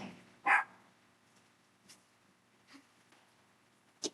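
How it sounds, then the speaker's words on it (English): A dog gives a single sharp bark early on, then stays quiet apart from a few faint noises and one brief sound near the end, in a calm room at the close of a slow restorative yoga session. "My dog waited to bark the whole time until just now."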